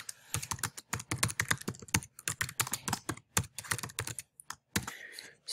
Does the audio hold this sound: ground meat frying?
no